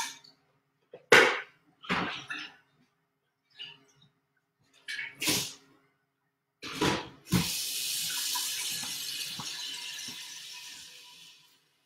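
Water from a kitchen faucet rinses out a kombucha jar in short splashy bursts, then the tap runs in a steady stream for several seconds, close and clear.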